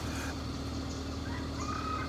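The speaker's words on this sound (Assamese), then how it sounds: "মুৰ্গী মুৰ্গীৰ চাউণ্ড এইটো" A chicken calls from within a forest near a village, giving faint, distant clucking cries over a steady background hum.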